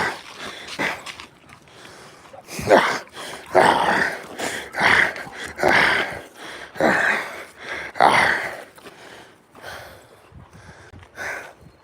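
Two young dogs about a year and a half old play together, trading bursts of growls, snorts, huffs and whimpers in an uneven, lively rhythm, loud and close by.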